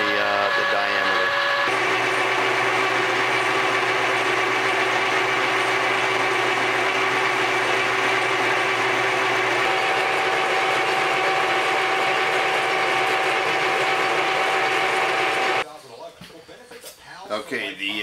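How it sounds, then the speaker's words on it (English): A metal lathe turns down a diameter on a part for a clock tower build, giving a loud, steady mechanical whir with sustained ringing tones for about fifteen seconds before cutting off into quieter background noise. "We got it set up again in the lathe there. We're going to start turning the diameter."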